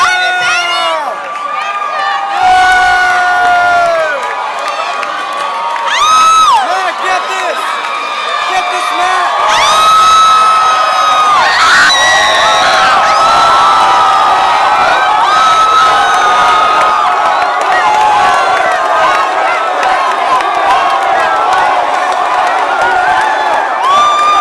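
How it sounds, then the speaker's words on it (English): A large concert crowd loudly and continuously chants a rapper's name, with sustained sung tones, cheers and whoops blending into a dense roar throughout. "all you can hear is just the crowd like chanting his name"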